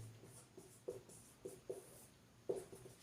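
A pen or marker writes on a board or paper in a few short, soft strokes spaced irregularly over a faint hum, close up and quiet.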